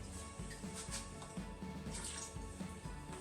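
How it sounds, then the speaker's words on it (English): Water splashes and trickles faintly as a tomato can is rinsed out in a kitchen, a soft continuous running sound with small drips. "Rinse out the can."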